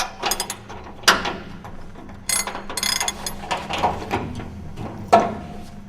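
Wrench and ratchet work loosening the bolts on the shaft block of a 200mm segmented rotor cassette, heard as several sharp metallic clicks and clanks in irregular bursts, close and fairly loud with no talking.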